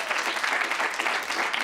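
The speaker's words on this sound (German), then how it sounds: "Dafür möchte ich erstmal einen extra Applaus haben" A studio audience applauds, a dense, even burst of clapping that holds steady throughout.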